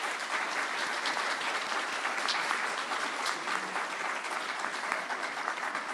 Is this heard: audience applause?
yes